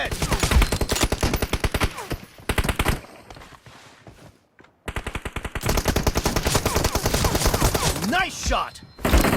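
Gunfire in the PUBG Mobile video game, in dense rapid bursts of loud, close shots, broken by a short lull partway through.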